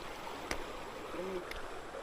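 A river flowing near a rural trail, a steady broadband rush of water with a couple of brief knocks, fairly close and continuous.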